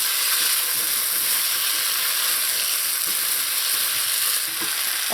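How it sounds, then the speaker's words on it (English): Salt being stirred into eddoes in a pot, heard as a steady, close sizzling hiss with faint scraping throughout, no voices. "You're going to season the eddoes with a little bit of salt"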